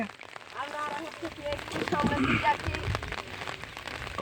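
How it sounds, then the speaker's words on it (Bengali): Rain patters steadily on a surface during a boat ride while people talk nearby, the voices clear over the continuous hiss. "সুন্দর বৃষ্টি হচ্ছে"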